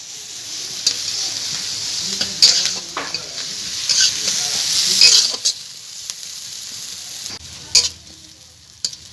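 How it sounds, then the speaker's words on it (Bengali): Whole spices and slit green chilies sizzling in hot oil in a home kitchen pan, a steady bright hiss broken by repeated scrapes and clinks of a stirring spoon. "মশলাগুলোকে একসঙ্গে আমি ভালো করে ভেজে নেব"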